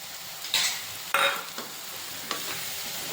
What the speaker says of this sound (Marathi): आणि सुद्धा तेल सुटेपर्यंत फ्राय करत राहायचं